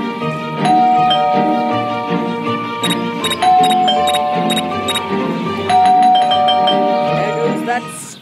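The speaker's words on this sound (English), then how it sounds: "stupid bell again." A chiming doorbell rings repeatedly in the horror-themed video game Scary Teacher 3D, its bright ding-dong tones layered over background game music for several seconds, loud and close, with no voices.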